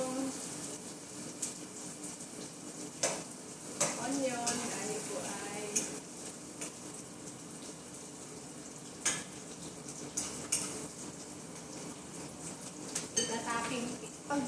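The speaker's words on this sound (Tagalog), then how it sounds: "mag-brown na po yung onion" Onions fry and brown in a pan for a chicken curry masala, a soft steady sizzle broken by occasional stirring clinks and scrapes of utensil against pan, with a voice speaking intermittently over it.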